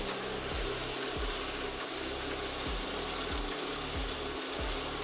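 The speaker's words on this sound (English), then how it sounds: "While the robot vacuum cleaner is running, I can measure the noise level in different modes." An Extravis V5 robot vacuum cleaner runs close by with a steady, loud whooshing hum, and a low mechanical clicking repeats about twice a second.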